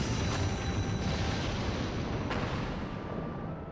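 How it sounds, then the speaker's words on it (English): A flashbang blast in Final Fantasy XIV Heavensward, a loud rumbling roar that fills the clip and fades slowly, with a sharp crack partway through. "Another flashbang."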